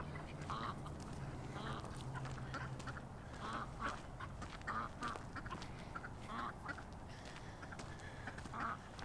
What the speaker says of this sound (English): Whole lot of honking going on.